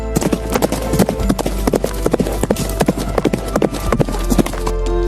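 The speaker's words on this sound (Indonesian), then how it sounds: "itu adalah kuda yang kaget" A startled horse's hooves clatter in rapid, irregular clip-clops close by, with a steady low hum beneath.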